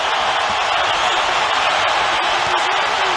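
A boxing arena crowd on its feet during the late rounds of Canelo Alvarez versus Gennady Golovkin, a loud, steady roar of cheering that fills the space with no break.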